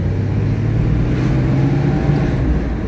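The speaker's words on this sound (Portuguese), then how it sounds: "para você dar aquela escutada do ronco do motor Vortec quando tá saudável" A Chevrolet Blazer's healthy 4.3 Vortec V6 engine rumbling and revving steadily, a loud, close, continuous roar with no talking.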